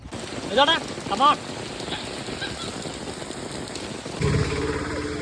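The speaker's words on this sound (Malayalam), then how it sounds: "നല്ല മഴയാണ്." Heavy rain pattering steadily on surfaces nearby in Palakkad, Kerala, with a couple of short bird-like chirps early and a low hum starting near the end.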